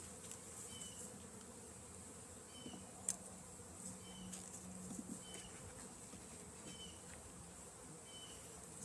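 Honeybees, Italian bees, drone steadily inside an opened beehive, a continuous close buzz with individual insects passing near, over a low hum and one brief tap partway through.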